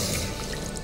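Milk being poured into a basbousa mixture for an almond-flavoured variation, a steady, close liquid stream that runs unbroken for under a second.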